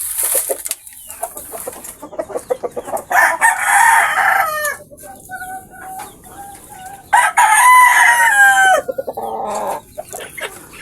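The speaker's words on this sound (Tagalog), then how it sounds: "Ganyan na karami na yung ating mga inaalagaang manok" Tethered backyard chickens cluck in short bursts while a rooster crows loudly nearby, the calls coming in uneven bouts with brief quiet gaps between them.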